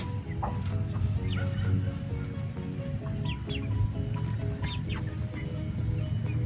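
Pasture-raised meat chickens, a small flock of smaller birds kept in open space on a farm, cluck and chirp intermittently over a steady low rumble of background noise.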